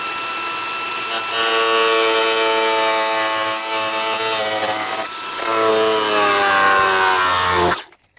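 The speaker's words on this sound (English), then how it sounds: "I've put a brand new blade on the grinder so that we have maximum grinding capabilities, and we're just gonna go for it." An angle grinder fitted with a brand new blade cuts into car body metal while building widebody arches for a Giulietta, a loud, steady high-pitched whine that wavers in pitch as the load changes, briefly easing near the middle before cutting off abruptly at the end.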